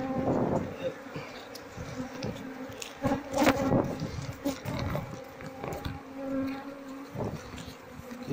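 A queenless honey bee colony buzzes around honey-filled comb, with a steady close drone and swelling bursts of nearby wingbeats, alone without talk.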